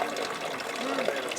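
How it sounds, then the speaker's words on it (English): Drinking water runs from Onofrio's fountain in Dubrovnik, a steady splashing gush of water heard close and continuous with outdoor ambience. "here we have Onofrio's fountain, and the water that you see coming out is actually drinking water"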